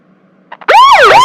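A police car siren bursts in loud and close after a couple of faint bumps, its wailing tone sweeping up and down in a single rising and falling cycle.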